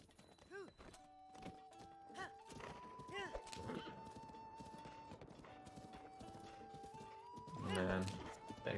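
Horses in the Zelda: Breath of the Wild video game clop and whinny in short bursts, with a louder clattering thud near the end, mixed with game music and steady talk from people.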